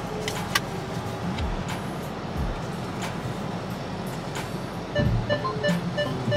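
A car rolling out of a car park in Helmsley, Yorkshire, heard as a steady low engine hum from inside the cabin with occasional clicks and bumps, and no one speaking.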